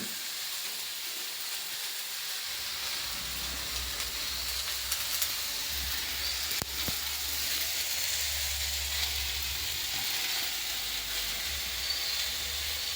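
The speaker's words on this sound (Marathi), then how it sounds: "आता कांदा भाजायचा प्रयत्न चालू आहे" Onion frying in a pan gives a steady, close sizzle and hiss with a low rumble underneath that comes and goes, and a faint click now and then.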